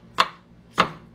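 Two sharp knife chops cut through canned scrambled eggs on a board, close and distinct, spaced about half a second apart.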